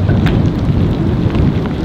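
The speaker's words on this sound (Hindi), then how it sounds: "बारिश शुरू हो गई है" Rain comes on during a mountain drive in a Force Gurkha on the road to Spiti Valley, a dense, loud, close rumbling wash of noise with no talk, over just a couple of seconds.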